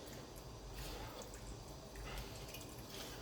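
Chicken broth is poured in a small amount into a pan of shrimp and mushroom pasta, giving a soft, faint trickling and dribbling of liquid with light splashy surges.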